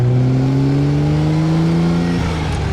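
A 1962 Austin-Healey 3000 pulls along in first gear, its engine giving a smooth, steady drone that climbs slightly in pitch, close and fairly loud with no talking over it.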